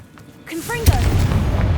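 A Confringo fire spell goes off in the Hogwarts Legacy video game: a short tonal whoosh swells into a single sharp, punchy boom, then fades into rumbling game ambience, with a voice just before it.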